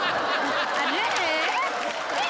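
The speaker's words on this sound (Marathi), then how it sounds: "जोरदार टाळ्या प्रेक्षक." A comedy show audience claps, mixed with laughter and lively voices. The dense crowd noise stays loud and steady throughout.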